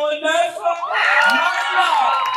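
Crowd cheering and whooping for a beauty pageant contestant, number 9, at a Miss competition; after a brief amplified voice at the start, a loud, sustained wall of shouts and whoops swells and holds steady.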